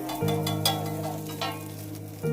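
Chowmein frying and being tossed in a pan at a Kolkata street food stall, a steady close sizzle with brief scraping stirs and a low hum running underneath.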